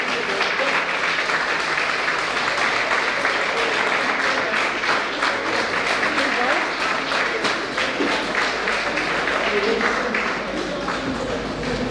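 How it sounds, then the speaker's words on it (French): A hall audience at a Junior Chamber ceremony in Rufisque breaks into loud, sustained applause welcoming the executive president, dense clapping filling the room throughout with scattered voices underneath. "l'ami Omar Gueye, sous vos applaudissements."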